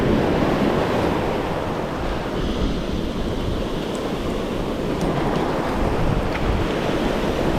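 Ocean waves breaking in the beach wash, a loud, continuous roar of surf and churning water with some wind across the whole stretch.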